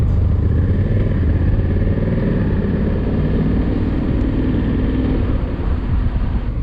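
A Honda Africa Twin DCT motorcycle rides along with a steady, loud, close engine drone mixed with wind rush, constant throughout with no talking.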